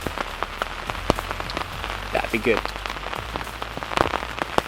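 Rain patters steadily on a surface at an autumn lakeside carp-fishing camp, with dense close drops and a few louder taps, while a voice briefly speaks over it.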